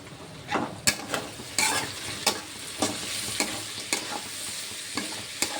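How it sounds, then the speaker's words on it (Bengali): Bitter gourd and potato frying on a low flame, a soft continuous sizzle broken by regular sharp scrapes and taps of a spatula against the pan, close by with no talking. "উচ্ছে আলুটা গ্যাসের জোর কম দিয়ে তারে ভেজে নেবো"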